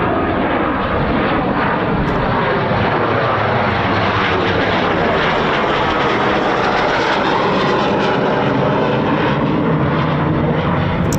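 A Eurofighter Typhoon FGR4 jet flies near RAF Coningsby, producing a loud, sustained engine roar that fills the whole stretch without letup.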